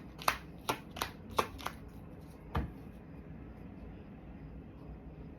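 Tarot cards being shuffled make quiet, close flicks: five quick snaps in a loose rhythm, then a single longer riffle, followed by near silence.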